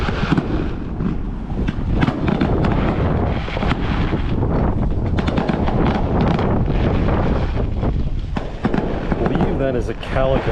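Fireworks crackle and pop continuously in the background at a saltwater fishing pier on the Bogue Inlet in Emerald Isle, North Carolina, mixed with gusty wind noise on the microphone.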